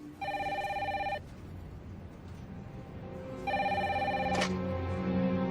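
A telephone rings in two electronic bursts of steady tone separated by a pause, heard at moderate level over a low background hum.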